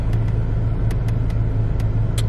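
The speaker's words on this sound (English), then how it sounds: "and then there's somebody right here with his loud car" A loud car engine rumbles steadily at idle, low and close, with a few sharp clicks over the drone.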